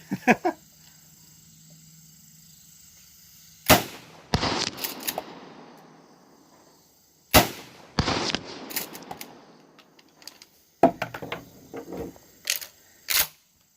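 A 12 gauge shotgun firing 2 3/4 inch Remington 00 buckshot outdoors at long range, several loud sharp blasts in spaced bursts, each followed by a trailing rumble and rattle of echo, with quiet gaps between.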